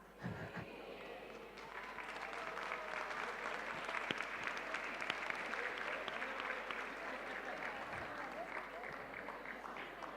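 An audience at a lecture on evidence-based education applauds after a magic trick, a sustained, even round of clapping at moderate distance.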